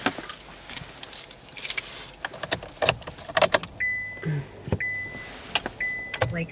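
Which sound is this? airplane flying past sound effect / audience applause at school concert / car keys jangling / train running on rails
car keys jangling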